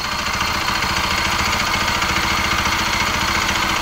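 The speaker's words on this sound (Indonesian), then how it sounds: "Dan ini mesin karena kurang oli jadi agak berisik ya." A Bajaj Pulsar 200NS motorcycle engine idles low on oil, a steady close rumble with a faint ticking clatter running through it for the whole stretch.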